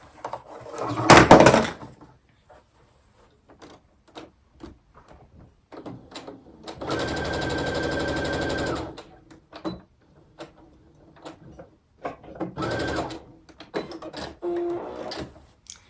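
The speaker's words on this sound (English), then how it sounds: "I'm just going to sew them all together." A sewing machine stitches fabric pieces together, running in short bursts with one steady run of a few seconds in the middle, between quiet handling noises and knocks.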